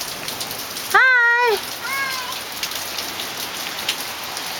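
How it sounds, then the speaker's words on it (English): Rain falls steadily on outdoor surfaces in Las Vegas as a constant close hiss with scattered drips, while a person briefly speaks a greeting over it. "What do you think of this rain"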